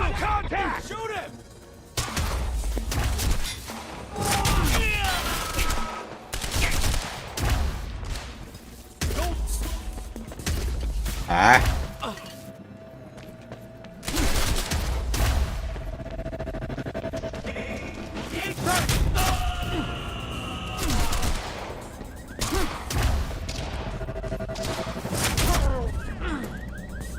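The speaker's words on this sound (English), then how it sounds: "He's got a gun! Open fire!" Gunfire in Quantum Break comes as scattered loud shots and crashing impacts, separated by pauses, mixed with game noise and shouted voices.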